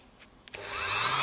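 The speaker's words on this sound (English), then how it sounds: "then I take my Dremel, and I cut these things" A Dremel multitool starts cutting into cables, with a few faint ticks and then a rising high-pitched grinding whine that builds quickly and stays close and steady to the end.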